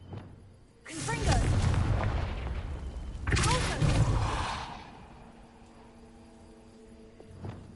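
A Confringo fire spell in Hogwarts Legacy blasts dry vines inside a cave. Two loud, roaring bursts hit about two seconds apart, each fading into a crackling tail before quieter tones ring out at the end.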